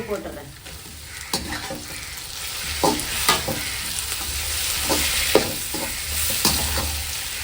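Tomatoes sautéing in a pan for fish curry, a steady close sizzle broken by repeated scraping stirs of a spoon against the pan at irregular intervals.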